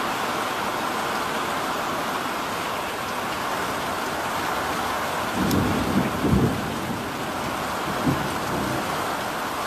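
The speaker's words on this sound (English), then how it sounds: "And the thunder rolls." Steady heavy rain hisses throughout a severe South East Queensland thunderstorm while low thunder rumbles and rolls in the middle, swelling briefly before fading back under the downpour.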